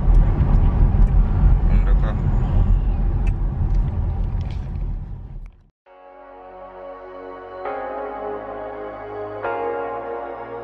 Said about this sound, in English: That's a fast car, yeah.